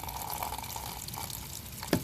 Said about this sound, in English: I pour some water in there